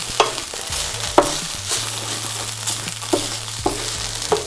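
Onions sizzle in a hot pan for a potato and mushroom crepe filling, a steady frying hiss broken by regular scraping stirs of a utensil, close and without talk.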